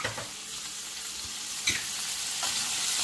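Mushrooms and spring onions fry in a pan with a steady, bright sizzle and faint crackles, plus a few soft stirring scrapes, and nobody speaks.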